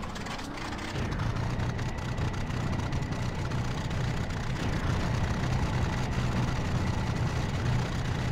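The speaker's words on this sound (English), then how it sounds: "Then I started up my own engines." Aircraft engines in IL-2 1946 running steadily after start-up, a continuous low droning rumble that holds at an even level throughout.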